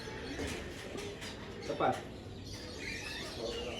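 Birds being hand-fed at a bird park in Kuala Lumpur, with soft coos and chirps and a brief louder flutter midway, heard amid steady crowd murmur while people talk.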